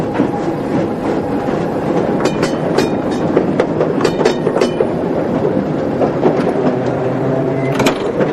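Old railway carriages rattle and clatter along the track in a continuous, close, noisy rumble. Irregular bumps and metallic knocks punctuate the steady clickety-clack.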